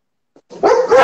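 A dog barks and yips in a short, loud burst during a home livestream, a faint yelp first and then sustained excited barking right up close.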